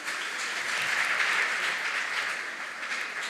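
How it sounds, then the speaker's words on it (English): Steady audience clapping for a student contestant at a school quiz between New World School, Atomic Hills and SOS Hermann Gmeiner in Tamale, a continuous even patter throughout. "Please clap for Brittany."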